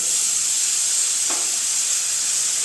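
A paste of onion, garlic, ginger and green chili hitting a hot frying pan, giving a continuous loud hiss and sizzle with one brief soft knock in the middle.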